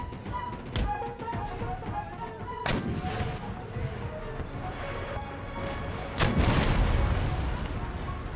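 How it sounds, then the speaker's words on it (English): Cannon artillery in Empire: Total War booms in three sharp blasts spaced a few seconds apart, with battle noise rumbling between them. "These cannons just are not great at these bunches of infantry."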